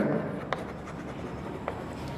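Pen or marker writing notes during a Class 9 geometry lesson on the triangle angle sum property, soft scratchy strokes with a couple of brief taps, faint and close, no talking.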